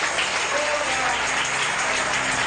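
Congregation applauding, a dense steady wash of clapping at moderate distance that fills the whole moment without pause.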